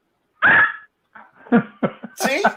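A small dog gives a short, close vocal burst, then a run of quick yips and grunting sounds, ending in a brief higher-pitched whine.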